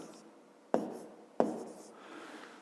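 Pen strokes on paper while a fifth-grade maths answer of 213 square millimetres is written down: two sharp taps of the pen followed by soft scratching, faint and close, with no voices.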